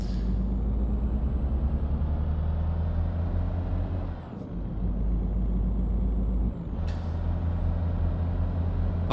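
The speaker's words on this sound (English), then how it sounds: "the sound of this truck sounds quite good." A truck in Euro Truck Simulator 2 drones with a steady low engine rumble and faint high whine, broken twice by sharp hissing air-brake releases, loud and close with no talking.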